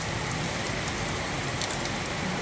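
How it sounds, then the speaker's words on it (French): Heavy rain pours steadily during a thunderstorm, a dense unbroken hiss of drops hitting surfaces close by, loud and continuous with no voices. "il pleut et il commence à faire de l'orage"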